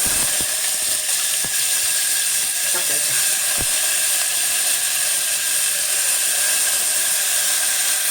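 Butter beans hit a hot tempering of oil with turmeric and a little chili powder, producing a loud, continuous sizzling hiss broken by a few sharp clicks.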